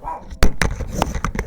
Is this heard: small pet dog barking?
yes